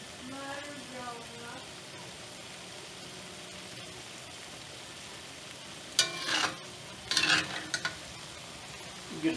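Beef and broccoli stir-fried in a cast iron wok on a stove that isn't quite hot enough: a low steady sizzle, then loud scraping, stirring bursts near the end, with a voice briefly at the start.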